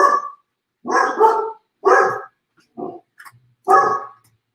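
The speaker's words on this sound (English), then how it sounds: "now my dog is barking" A household dog barks loudly and close by in a home, four or five separate bursts in an uneven rhythm with short pauses between them, with no other sound around them.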